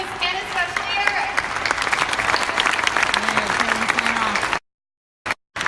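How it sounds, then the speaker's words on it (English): A crowd applauds at the end of a real estate panel event at a RE/MAX office, a thick continuous clapping with voices mixed in. It stops abruptly, followed by silence. "everyone, a big round of applause for Nicole, Andrew, Marty, Chris, and especi"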